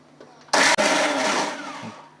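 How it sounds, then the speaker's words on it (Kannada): A kitchen mixer grinder whirs loudly, grinding cumin seeds and a spoon of coriander powder into a fine masala for a dry fish sambar. A brief dip breaks the steady, harsh grinding before it settles into a long, even whine. "ನುಣ್ಣಗೆ ರುಬ್ಕೊಳ್ಳೋಣ."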